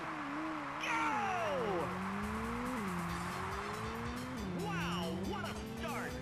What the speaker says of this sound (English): I want to try and have a go at doing that reverse sort of skid